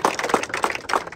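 Short bursts of clapping for a student at a physical training academy, several uneven claps in a quick rhythm, fairly close and moderately loud with no talk.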